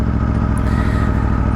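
2022 Aprilia Tuono V4 Factory motorcycle engine loping along at low speed, a loud, deep, throbbing rumble that stays steady and close with no talking.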